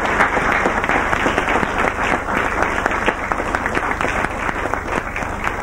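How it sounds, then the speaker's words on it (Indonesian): Steady applause from a live audience at a comedy show fills the whole stretch, a dense continuous patter of many hands clapping at even loudness. "Kita berikan tepuk tangan untuk"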